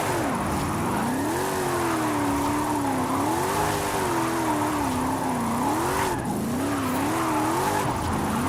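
A Mercedes drifting in the video game Forza Horizon 5 gives a sustained, wavering tire squeal over a steady engine roar, the pitch sliding up and down continuously without any talk.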